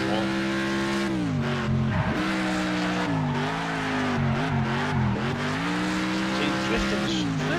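Car drifting in the racing game Next Car Game, its engine droning steadily with wavering pitch as tires skid and squeal through sustained slides, loud and continuous throughout.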